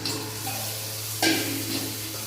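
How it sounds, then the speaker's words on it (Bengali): Spice masala being stir-fried in a pan for an egg and drumstick curry, a steady soft sizzle with scraping stirs and a brief louder burst partway through, close and continuous with no talk. "এখন ভালো করে মশলাটা বেশ কিছুক্ষণ কষিয়ে নেবো"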